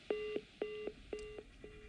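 Telephone line tones after a call is cut off: a short series of repeated electronic beeps in even rhythm, each a paired tone, faint and clear with no voices.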